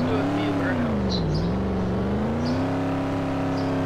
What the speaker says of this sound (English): So guys, traction control is off. Let's do a few burnouts.